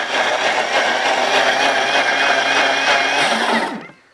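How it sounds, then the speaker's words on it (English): A blender pureeing tomatoes whirs loudly and steadily for several seconds with a high motor whine, then spins down and cuts off. "all I'm going to do is puree them in a blender"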